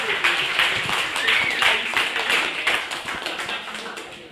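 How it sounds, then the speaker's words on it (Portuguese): An audience applauds a speaker at a software testing talk, steady dense clapping with some individual sharp claps standing out, sustained throughout and close. "Salva de palmas para ele."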